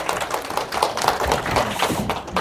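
A seminar audience applauds a model, giving dense, continuous hand clapping at moderate loudness that lasts throughout, without voices.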